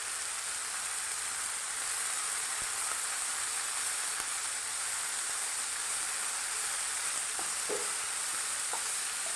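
Tomato frying in a pan gives a steady, close sizzle with a bright, even hiss throughout, and a few faint stirring scrapes near the end.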